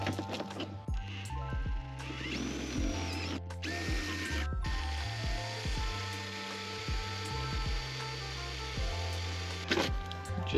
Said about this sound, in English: Nico's about to make the hole for our chassis